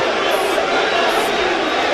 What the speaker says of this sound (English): Well, the crowd aren't happy.